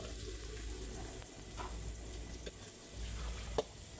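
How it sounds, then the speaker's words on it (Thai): Aromatics with black pepper and garlic sizzle in a little oil on a stove, a steady close frying hiss broken by occasional stirring scrapes and one sharp clink. "ใส่น้ำมันเล็กน้อยนะครับ แล้วก็ใส่เครื่องเคียงให้หอมหมดนะทุกคน"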